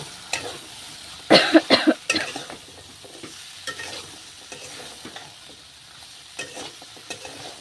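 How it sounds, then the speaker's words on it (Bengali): Pumpkin stir-fried with spices in a thin, light pan, with a burst of loud scraping stirs followed by quieter intermittent scrapes over a soft background sizzle, close by. "এখন এই যে কুমড়োটা দিয়ে দিচ্ছি, কুমড়োটা দিয়ে আবার একটু কষিয়ে নেব"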